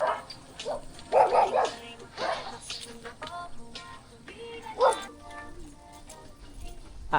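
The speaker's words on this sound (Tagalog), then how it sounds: "Daming aso." Several dogs bark in short bursts at a moderate distance, mixed with people talking nearby and general outdoor background noise.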